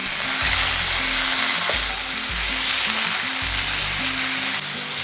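Asafoetida and ginger paste fry in a pan with a loud, continuous sizzle and crackle, broken by the rhythmic scrape and thump of stirring.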